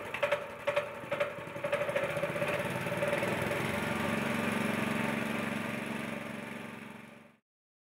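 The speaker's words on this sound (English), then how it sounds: "The ground technician should start the pump engine." A pump engine on a gear oil exchange system for wind generators coughs and sputters into life, then settles into a steady mid-pitched running drone before cutting off abruptly.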